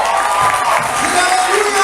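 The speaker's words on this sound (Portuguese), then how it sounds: "Dá um forte aplauso a Ele." Church congregation at a revival conference applauding and cheering, a dense sustained wash of clapping and voices with whoops and shouts mixed in, steady and loud throughout.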